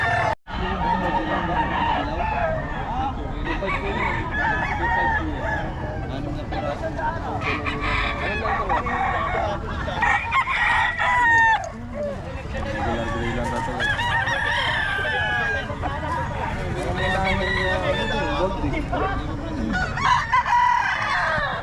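Many chickens cluck and roosters crow repeatedly at a market in Bocaue, over a busy, noisy background, with voices talking intermittently throughout.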